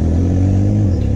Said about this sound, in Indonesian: Motor yang menggunakan mesin 1130 cc dengan power 101 kW ini begitu nampol.